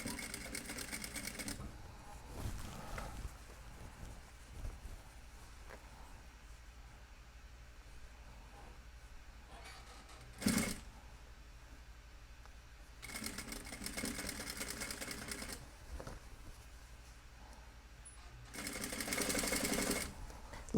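A sewing machine stitches a jean hem in several bursts, its motor whirring loud and close between quieter pauses, with a short sharp knock partway through.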